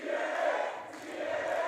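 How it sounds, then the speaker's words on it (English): A wrestling crowd in Scotland cheers and shouts together, a broad sustained roar of many voices that dips briefly, then swells again. "Great respect shown from this Scotland crowd for everybody in this matchup"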